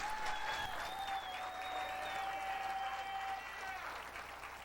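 Audience applause welcoming performer Bobbie Hicks, a steady wash of clapping from a crowd that holds for several seconds and tapers slightly near the end, with a sustained whistle-like tone running through it.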